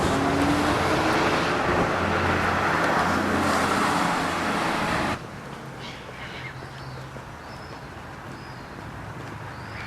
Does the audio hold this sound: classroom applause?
no